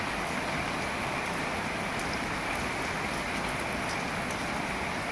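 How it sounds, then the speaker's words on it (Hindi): Heavy rain falls steadily and densely in an outdoor yard, a continuous loud wash of drops with no breaks and no voices. "बहुत जोर से वर्षा पकाउची।"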